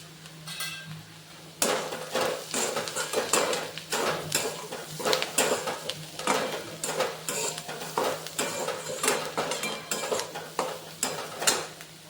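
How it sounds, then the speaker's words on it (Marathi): Chopped green chilies with turmeric being stirred in a pan while cooking wheat-bran bhaji, with a constant sizzle and frequent close scraping and clinking of a spoon against the metal pan. "मिरची चांगल्या प्रकारे परतून घेऊ थोडी हळद घालून घेऊया"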